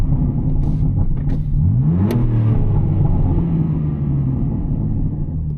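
A BMW M4 F82 Competition with a Stage 1 tune and mid-pipe exhaust revs hard, its loud engine rumble rising in pitch and then holding a strained drone, heard from inside the car with no talking.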